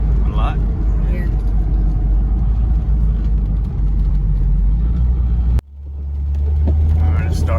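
A C5 Corvette pulls hard at full throttle, with a loud engine drone rising in pitch, a sudden break at a gear change, then climbing again as it keeps accelerating.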